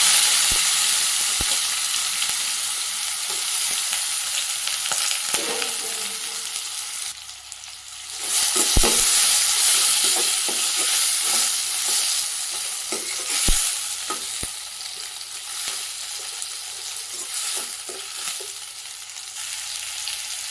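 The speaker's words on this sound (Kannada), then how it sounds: "ಎಣ್ಣೆ ಕಾಯ್ದ ನಂತರ ಇವೆಲ್ಲ ಸಾಮಗ್ರಿಗಳನ್ನು ಇದಕ್ಕೆ ಹಾಕಿಕೊಳ್ಳೋಣ" Palak paneer ingredients frying in hot oil in a pan and being stirred, a close, loud, continuous sizzle broken by scraping stirring strokes and brief surges, with no talking.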